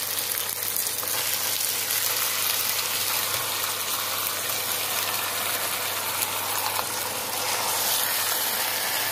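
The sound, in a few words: marinated chicken pieces frying in a pan for chicken korma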